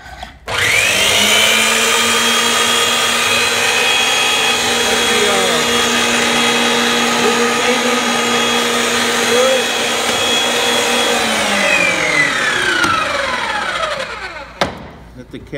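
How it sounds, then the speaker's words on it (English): A Ridgid 802 pipe threading machine, with wheeled cart and foot pedal, runs on 120 volts: a loud, steady motor whine with shifting gear tones starts abruptly, holds for about fourteen seconds, then cuts off. "we're gonna turn it on here and show you that it works"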